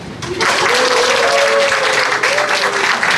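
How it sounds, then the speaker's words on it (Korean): Loud, sustained applause from an audience at a book launch celebration, steady crowd clapping after a musical performance, with faint musical tones lingering underneath. "꽃보다 더 아름다운 두 분께 다시 한번 큰 박수 보내주시기 바랍니다"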